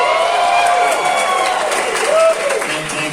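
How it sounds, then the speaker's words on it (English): A theatre audience cheers and applauds in a dense, continuous crowd roar, with whoops and shouts rising above the clapping. The noise is loud and sustained throughout, dipping slightly near the end. "And thanks for cheering 2 years late."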